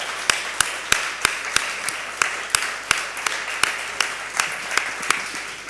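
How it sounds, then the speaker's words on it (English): Audience applause at a UNDP Africa talk, heard as sharp, evenly spaced claps in a steady rhythm over a soft, hissy room background. "Let's applaud, please."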